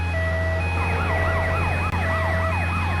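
A loud, continuous wailing ambulance siren sweeps up and down steadily in GTA Vice City, sounding close and constant over a low steady engine drone.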